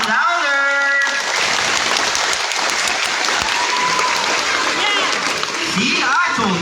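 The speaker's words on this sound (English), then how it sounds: "unless all of you clap your hands. Come on, louder!" An audience claps loudly and continuously at a sea lion show, dense applause with some splashing water, and a voice speaking briefly at the start and end.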